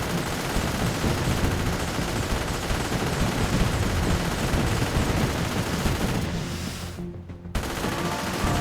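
Artillery towers in the M.A.C.E. Tower Defense video game fire in a dense, continuous barrage of gunfire-like blasts. The volley stays loud and steady and breaks off briefly near the end.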